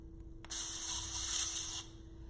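A single continuous hiss of an olive oil aerosol cooking spray lasts just over a second, close by and fairly quiet, then cuts off.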